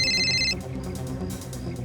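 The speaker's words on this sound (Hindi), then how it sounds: "क्यों फोन कर रहा है मुझे?" A phone ringtone sounds for an incoming call, a bright repeating electronic ring for about half a second before cutting off, leaving low background noise.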